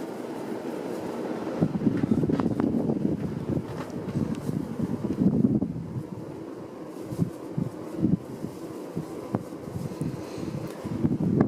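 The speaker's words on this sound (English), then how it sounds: "now it runs dead silent, which is awesome. Other than the huge amount of wind noise," Steady, whooshing air noise from a running Casablanca Delta II ceiling fan from about 1992, a continuous broadband rush that stays fairly even in loudness throughout, with no talking.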